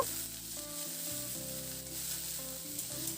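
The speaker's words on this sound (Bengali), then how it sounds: "হালকা করে পেঁয়াজটাকে একটু ভেজে নেব" Onions sizzle steadily in hot oil for a water spinach and lentil dish, a continuous close frying hiss under a layer of tonal background music.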